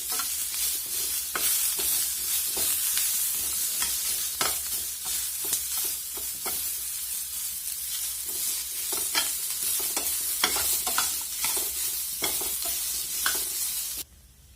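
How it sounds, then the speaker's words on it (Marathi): Onion frying in a little oil in a pan for a Maharashtrian katachi amti (saar), with a steady close sizzle broken by repeated scraping stirs of a spoon against the pan throughout. "पहा आता आपला कांदा एकदम व्यवस्थित भाजलेला आहे"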